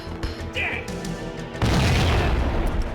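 A grenade explodes in the video game Max Payne, a loud booming blast that follows a quieter stretch of game sound and lingers with a rumbling crash.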